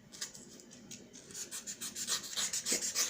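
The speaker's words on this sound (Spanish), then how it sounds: "también con la lija se pueden hacer tallados" Sandpaper rubs over a modeled high relief, carving it in a steady back-and-forth rasp of short, even strokes that grow slightly louder and quicker toward the end, close by and on their own.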